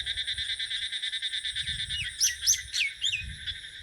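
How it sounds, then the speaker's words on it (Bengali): Myna bird calling outdoors in the rainy season, a few sharp whistled chirps over a constant shrill insect or frog chorus and soft low rustling. "এদিকে শালিক ডাকছে"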